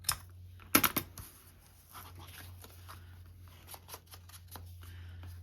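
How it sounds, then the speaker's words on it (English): Paper being trimmed into a small tag with scissors for a pocket craft, a close burst of sharp snips near the start followed by lighter scattered cuts and paper rustles against a steady low hum. "We'll go ahead and trim that out"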